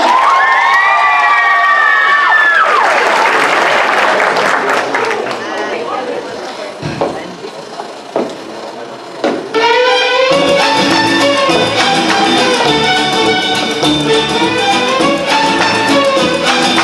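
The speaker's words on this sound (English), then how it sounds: "Give them a big round of applause." An audience at a school transition-year variety show cheers and shouts loudly, with voices and musical sound mixed into the crowd noise.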